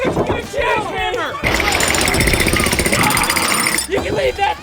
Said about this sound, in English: Oh, where did you get a jackhammer?